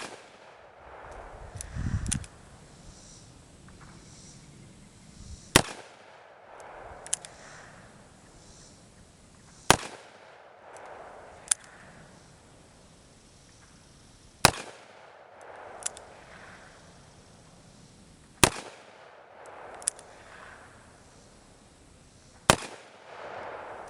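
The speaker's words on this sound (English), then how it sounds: "we are shooting some Remington factory 158 grain soft points there" Ruger GP100 .357 Magnum revolver firing Remington factory soft points at a target, about six sharp, loud shots spaced a few seconds apart with quiet gaps and slight outdoor echo between.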